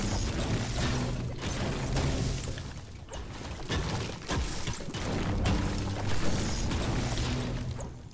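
A Fortnite structure collapses once its foundation is destroyed, a busy run of crashing, clattering and smashing impacts that rumble on for several seconds at moderate loudness, with no voices.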